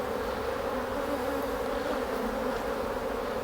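Honeybees shaken from a hive frame onto the top bars give off a dense, steady buzz, loud and close, with no break and no voices.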